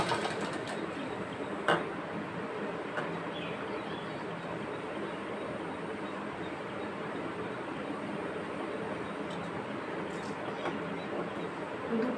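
A sewing machine joins a collar onto a churidar, a continuous low mechanical whirring hum that stays steady and fairly quiet throughout, with a few faint clicks.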